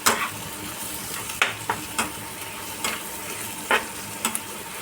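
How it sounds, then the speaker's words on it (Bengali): Onion frying in oil in a pan over a medium gas flame, with salt, turmeric, Kashmiri chili and green chili. A continuous hiss of sizzling is broken by several sharp spatula scrapes and knocks, close by, with no talking. "আমি কিন্তু গ্যাসের ফ্লেম মিডিয়ামে রেখেই পেঁয়াজটা ভেজে নিচ্ছি"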